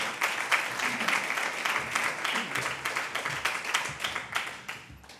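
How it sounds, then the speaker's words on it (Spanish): Audience applause at the close of a poetry and science event featuring poems and music, a steady, dense wash of many hands clapping throughout, fairly close and loud, with no speech over it. "Un aplauso para ella."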